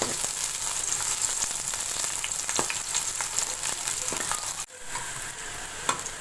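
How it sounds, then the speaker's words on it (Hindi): Steady, dense sizzling of food frying in a pan, continuous and close, with occasional sharp pops and a brief dip near the end. "ये आपके सामने देखें हम कर रहे हैं फ्राई"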